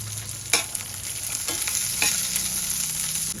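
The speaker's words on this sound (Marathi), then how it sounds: "कढीपत्ता घालूया आणि छान भाजून घेऊया." Cumin, chili, garlic and curry leaves frying in a pan, with close sizzling under repeated scraping stirs and a few sharp spoon knocks on the metal, and no talk.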